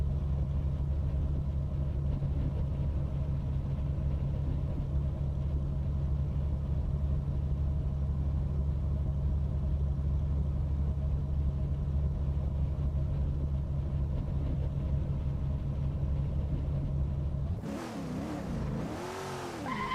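Lola T70 MkII Spyder race car at Kyalami 1967 in a racing game, its engine holding a steady, loud, low droning roar at near-constant revs, then a brief shift in pitch and a dip in level near the end.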